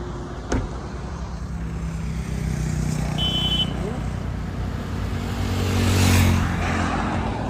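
Toyota Innova Crysta on a long highway drive near a toll plaza, a steady low engine and road rumble heard from inside the cabin, swelling slightly near the end, with occasional faint voices.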